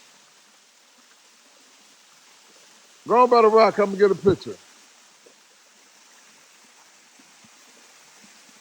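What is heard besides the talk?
waterfall in Georgia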